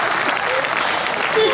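Audience applause at a Hindi kavi sammelan poetry recital in Sujangarh, a steady wash of many hands clapping at moderate distance, continuous through the short span with a slight swell near the end.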